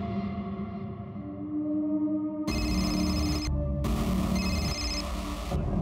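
An electronic phone ringtone trills in two long bursts with a short gap between them, loud and close, over a low steady background hum.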